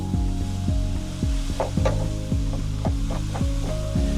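Ground beef sizzles in a Dutch oven with a steady close frying hiss and a few scraping stirs, while a low electrical hum runs underneath.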